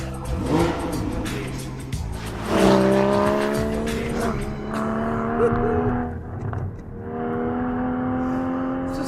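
Porsche Cayman GTS 2015 driving hard along a tight, twisty road, engine note rising and falling through gear changes with brief tire squeal, steady and close throughout.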